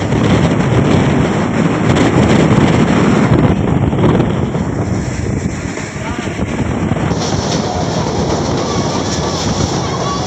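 A train travelling through torrential rain, a loud, dense and continuous roar of rain, wind and rolling rail noise filling the whole stretch without letup.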